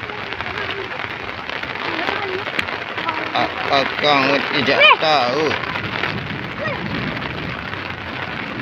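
Steady rain hisses and patters throughout while someone speaks over it, the downpour filling the background at a constant level.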